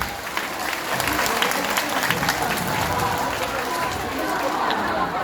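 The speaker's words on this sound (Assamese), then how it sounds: "সকলোকে থিয় হৈ এটা উষ্ম আদৰণি জনাবলৈ হাত চাপৰি দিয়ে" A large crowd at a political rally in Assam applauds steadily, a dense, continuous wash of hand claps that carries on for several seconds with faint crowd murmur underneath.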